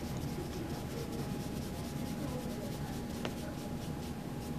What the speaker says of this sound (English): And here I can make marks with my eraser as well.